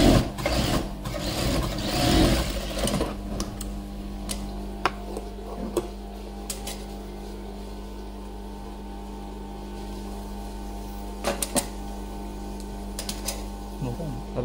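A sewing machine stitches a newborn baby cap with a steady, low mechanical hum and faint ticking that runs through the whole stretch, while a voice talks over it near the start.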